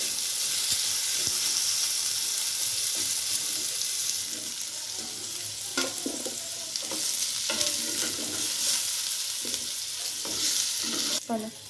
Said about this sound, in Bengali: আমার আলু ফ্রাইটা হয়ে গেল।